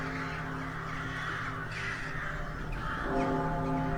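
Several crows caw repeatedly and loudly against a steady background hum, calls overlapping through the stretch with no talking.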